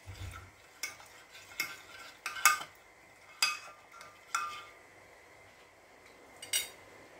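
A spoon scrapes and clinks in a bowl as a chicken marinade of soy sauce, white vinegar, hot chili and spices is stirred, giving soft, close taps at a steady, unhurried pace.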